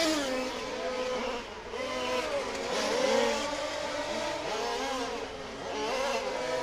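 Race cars in a RAMS West Coast Challenge FG Supply Series race roar around the track, engines revving continuously and overlapping as cars close in on each other, loud and steady with no talk.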